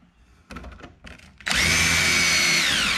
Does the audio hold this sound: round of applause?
no